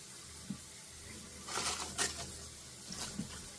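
Hot water runs steadily from a kitchen tap, a faint broadband hiss that swells with a few brighter splashing bursts, with no talking over it.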